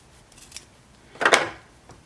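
Scissors snip through fabric for 1860s girl's underwear, one short cut near the middle after a couple of faint earlier snips, close and fairly quiet with no talk.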